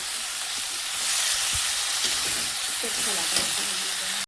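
Food being stirred and sautéed in a pan for a spicy dry potato dish, with steady broadband sizzling throughout and clattering scrapes of a spoon against the pan, close and loud.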